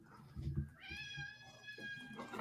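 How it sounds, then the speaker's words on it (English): A house cat meows once in a long, drawn-out tone, fairly close and clear. Quiet room noise and a few soft knocks come before and after it. "And we got cats running around."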